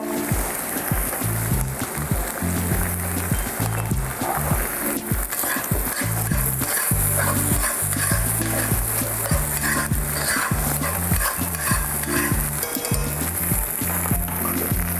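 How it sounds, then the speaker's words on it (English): A spoon stirs orzo with Parmesan in a sizzling pan, a loud, close and continuous scraping swirl over steady frying sizzle. "Give it another good stir."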